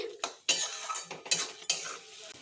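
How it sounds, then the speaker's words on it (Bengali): Sugar being stirred into a drumstick-flower malaikari curry in a pan: a spoon scrapes and clinks against the metal in quick, uneven strokes, close and fairly loud. "তো আমি চিনি দিলাম, দিয়ে এবার আমি মিশিয়ে দিচ্ছি।"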